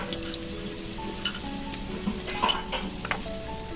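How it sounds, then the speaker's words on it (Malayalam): Chopped onion frying in hot coconut oil in a pan, a steady close sizzle with occasional brief clinks of stirring and no talk. "വെളിച്ചെണ്ണ ഒഴിച്ച് കൊടുത്ത് ചൂടായി വന്നാൽ സവാള ചേർക്കാം"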